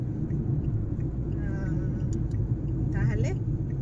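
Inside a private family car on a long road trip of about eight hours, a steady low engine and road rumble hums throughout while people talk over it.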